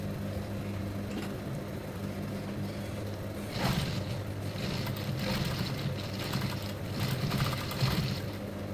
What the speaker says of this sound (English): we are going to go to our sewing machine